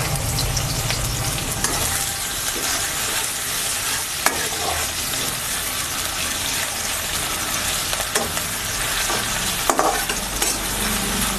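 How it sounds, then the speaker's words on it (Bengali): Finely chopped medium onion fries in hot oil for a fish curry, a continuous close crackling sizzle lasting several seconds, punctuated by occasional sharp clicks and stirring scrapes, with no speech. "পেঁয়াজটা ভেজে নেব"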